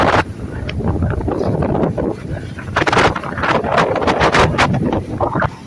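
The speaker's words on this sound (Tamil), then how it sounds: "கடலில் காற்று" Strong, gusty wind from a low-pressure system roaring across the microphone at the rough sea in Mathagal, loud and close in surging bursts, with a broad rushing noise throughout.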